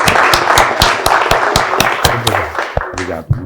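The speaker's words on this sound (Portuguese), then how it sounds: "eu quero pedir uma salva de palmas ao professor Francisco Coelho" Audience applause for a professor, heard as a burst of sharp, evenly spaced claps up close that thins out toward the end while a voice begins speaking.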